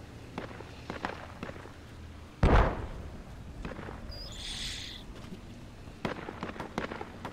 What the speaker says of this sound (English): Fucking cunts are still mortaring.